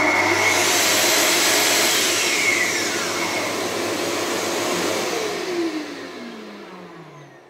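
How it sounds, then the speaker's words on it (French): A vacuum dust extractor connected to a Festool TS55 REBQ plunge track saw runs steadily and loudly, its whine holding for several seconds before easing down as the motor winds off near the end. "l'aspirateur va démarrer."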